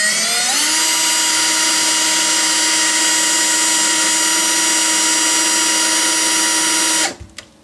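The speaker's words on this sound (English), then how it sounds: "Always reverse the drill when you yank it out." A power drill whines loudly and steadily at high pitch for about seven seconds while drilling into an acoustic guitar in a luthier's workshop, then spins down and stops abruptly.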